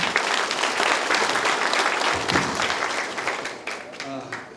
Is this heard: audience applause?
yes